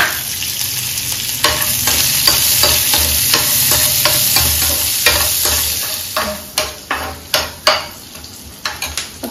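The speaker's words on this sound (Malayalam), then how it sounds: "അപ്പൊ ഇഞ്ചി വെളുത്തുള്ളി ഇങ്ങനെ നന്നായിട്ട് മൂക്കട്ടെ." Ginger and garlic fry in hot oil with fenugreek for a chicken pickle, giving a steady close sizzle while a spoon stirs and scrapes against the pan, with sharper clinks of utensil on metal near the end.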